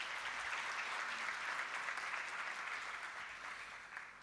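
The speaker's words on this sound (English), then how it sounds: "I'd like you to give them a round of applause just for that" An audience at a valedictory event gives a sustained round of applause, steady broadband clapping at moderate distance that holds evenly and then starts to taper toward the end.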